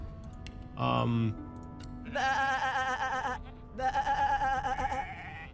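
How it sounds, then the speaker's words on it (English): Sheep bleating in the video game Divinity: Original Sin 2, with one short low bleat followed by two longer wavering bleats that sit in the background over faint game ambience. "there's an actual sort of sheep sound in the background"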